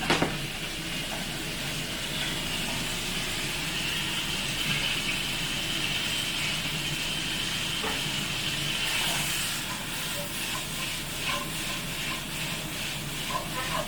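Garlic sprouts hit a hot wok while cooking yu xiang shredded pork, giving a steady loud hissing sizzle that holds evenly throughout, with faint clinks of stirring later on.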